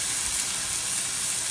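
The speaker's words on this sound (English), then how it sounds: "Zachary's making bacon" Bacon frying in a pan gives a steady, close hiss and sizzle that holds even throughout the short stretch.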